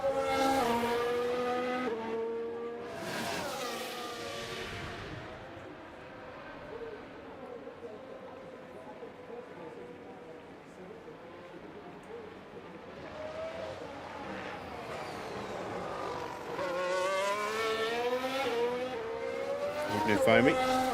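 Formula 1 cars in the F1 Manager 2026 game at the Hungary circuit, high-pitched engines whining past and rising through gears, loud at the start and end with quieter running between.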